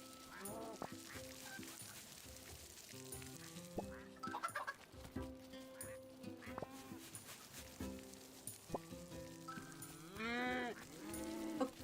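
Goats and other livestock in a farming video game, with repeated bleats and animal calls overlapping across the clip over a steady game backdrop, loud and close.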